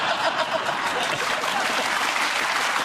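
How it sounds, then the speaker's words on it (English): A stadium crowd claps in a steady, dense round of applause for about three seconds, with faint chuckles mixed in. "That's the most churlish round of applause I've ever."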